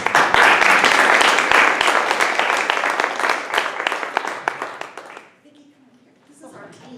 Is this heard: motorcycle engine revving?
no